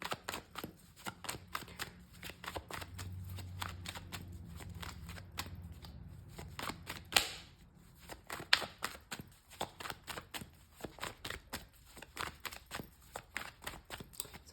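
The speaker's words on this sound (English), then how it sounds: "So as I pull the cards," Tarot cards are shuffled in a steady run of soft, papery riffles and flicks, with occasional sharper snaps standing out, close and fairly quiet throughout with no talking.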